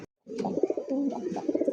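A large white pigeon gives a steady, close run of low throaty coos, fairly soft, with no talking.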